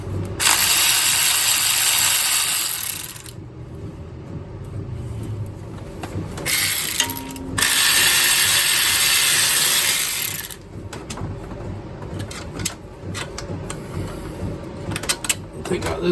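A ratchet backs out a bolt on the 3.4L engine of a 2005 Chevy Equinox, with loud bursts of rapid clicking ratcheting alternating with quieter pauses and handling noise nearby.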